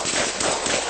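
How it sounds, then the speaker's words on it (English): Gunfire during a police SWAT team shootout in Ogle County, Illinois, heard as a dense, loud burst of sharp cracks with no talk. "Shots fired!"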